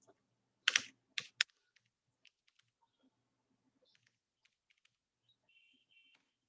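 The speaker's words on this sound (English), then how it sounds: "I'm just writing on chat" Computer keyboard typing as a chat message is entered, a few quick bursts of crisp key clicks up close, then sparse scattered taps in a quiet room.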